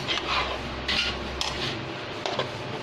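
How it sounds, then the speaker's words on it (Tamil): A ladle scrapes and knocks against a pan while jaggery paste fries in ghee, giving a few irregular close metallic clinks and scrapes over a low background hiss. "ஒரு கரண்டி வச்சு நல்லா திருப்பி விட்டுக்கோங்க"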